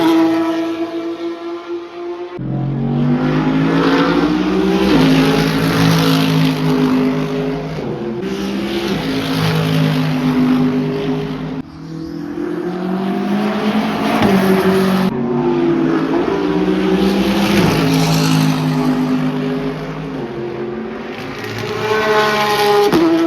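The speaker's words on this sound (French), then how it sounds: "on a la vue sur les voitures qui passent" Cars pass one after another at the Nürburgring, each engine note rising and falling as it sweeps by, loud and continuous with brief gaps between passes.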